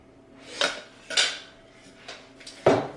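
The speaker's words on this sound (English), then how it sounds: "I like to place my cauliflower right on the bottom of the pan. Okay, spread it out evenly." Cauliflower being spread in a gratin pan, with a few scattered clinks and scrapes of utensil against the dish, sharp and near, set apart by short quiet gaps.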